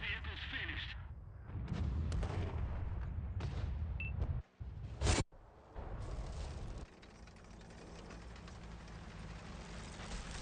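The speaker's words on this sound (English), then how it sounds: "And artillery." Artillery fire in a video game with an XM57 weapon, several loud booming blasts with crackling bursts and a sharp cut of silence midway, followed by sustained rumbling combat noise.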